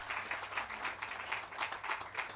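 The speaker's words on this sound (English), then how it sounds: "Let us give a big round of applause." Applause from an audience at a university conference in Pune during a certificate presentation, modest and fairly quiet, steady clapping with a loose pulsing rhythm across the whole stretch, no talk over it.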